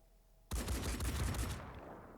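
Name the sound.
enemy gunfire in Phoenix Point video game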